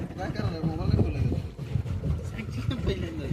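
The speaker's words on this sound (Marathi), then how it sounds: "आमची बोट चालली इकडे" A boat cruises across the open water of Kasarsai Dam, with steady engine and water rumble mixed with wind buffeting the microphone, while people chatter over it throughout.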